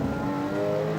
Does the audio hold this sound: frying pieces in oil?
no